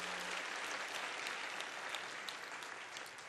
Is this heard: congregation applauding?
yes